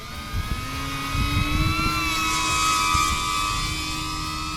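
An FMS Kingfisher beginner RC airplane runs at full throttle, its electric motor giving a steady high whine that swells after the first second and holds loud and close, with faint handling noises underneath.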